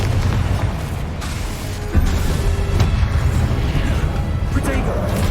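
A Confringo blast spell in Hogwarts Legacy bursts with a booming explosion amid continuous loud game combat noise, with a voice calling out over the clamor.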